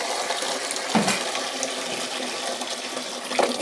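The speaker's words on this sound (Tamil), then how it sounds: "இதை பாருங்கள், காய்கறி கழுவுறாங்க பாருங்கள்" Tap water runs steadily while vegetables such as okra, eggplant, tomato and raw mango are washed for a sambar and poriyal meal, a continuous close splashing flow with a few brief louder swishes and no talk.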